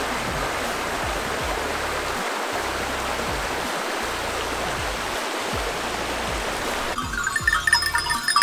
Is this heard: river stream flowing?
yes